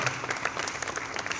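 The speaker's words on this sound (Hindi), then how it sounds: "लियाकत मुगल साहब अब तक टीवी के, उनके लिए ज़ोरदार तालियां होनी चाहिए।" An audience at an Urdu comedy stage show claps in a brief, lively burst of applause from a nearby crowd.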